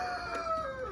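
Adult Rhode Island Red chickens in a smallholding coop, heard as a faint crowing or clucking call with a steady tone over quiet background, brief and alone without talk.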